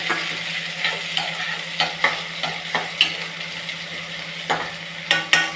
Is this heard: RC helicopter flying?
no